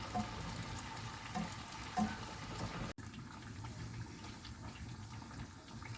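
Steady sizzle of wheat neyyappam frying in hot oil, a continuous bubbling hiss with oil spooned over the top, close and moderately loud.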